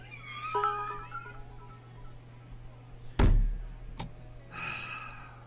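A kitten meows in a short rising call, then a sharp thud sounds and a second meow follows, all fairly quiet with nobody talking.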